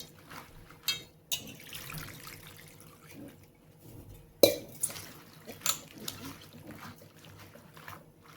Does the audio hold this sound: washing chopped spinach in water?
yes